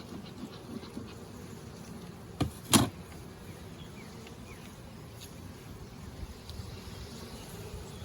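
Honeybees at an open hive during a honey check, a faint steady outdoor hum with a couple of brief louder buzzes as single bees pass near.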